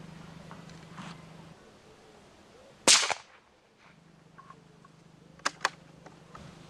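A single sharp crack of a .17 HMR rifle shot with an XTP bullet fired at a target outdoors, loud and abrupt, followed by a quiet pause and a couple of fainter clicks.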